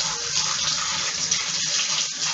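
Tap water running steadily while knives are washed, a close, even rushing stream with a couple of faint clicks, no voices.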